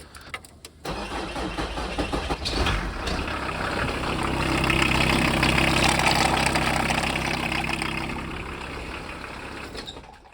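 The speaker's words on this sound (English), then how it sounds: "If you then just start your engine up just for a few seconds" A VW T4 van engine cranks and starts with a sharp burst, then idles steadily nearby with a low, even rumble that swells slightly before easing off.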